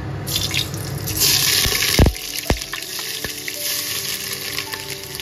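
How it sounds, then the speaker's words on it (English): Onions drop into very hot oil and set off a steady frying sizzle, with a couple of sharp clinks and knocks as utensils touch the pan, and the sizzle keeps going close by with no talk. "So the oil is super hot. In goes the onions."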